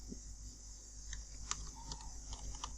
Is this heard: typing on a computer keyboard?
yes